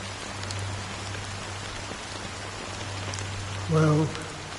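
Steady rain patters in a Honkai Star Rail cutscene, a soft even hiss over a low hum, with a brief tonal blip near the end.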